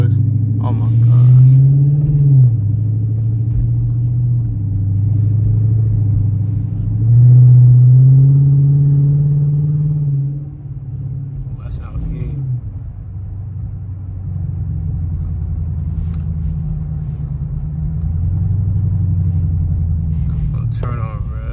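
A Dodge Charger RT with a mid muffler delete rumbles low and deep while cruising, swelling in a couple of revving surges, with people talking over it inside the car.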